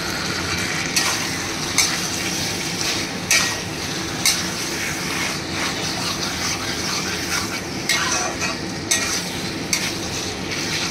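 Chicken pieces stirred in oil in a frying pan for chicken ghugni, a steady sizzle running throughout with regular scraping strokes of a spatula roughly every second or so, close and fairly loud, no talking.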